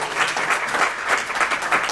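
An audience at a pro-life and pro-family congress in Madrid gives a strong round of applause, a dense, continuous clatter of many hands that swells and ebbs in waves, close and loud.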